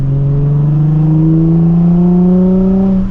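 Nissan 350Z with a muffler-deleted exhaust holding a loud, raw, steady drone that climbs slowly in pitch, close and alone with no talking.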